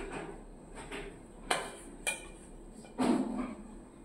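Potatoes and spices being stirred in a metal cooking pot, heard as a few scattered scrapes and clinks of a utensil against the pot, moderately close with short pauses between them.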